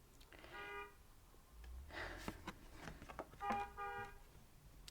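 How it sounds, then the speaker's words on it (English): Car horn honking outside, faint and distant, with a couple of short toots amid quiet room noise and no talking. "Sorry about the honking."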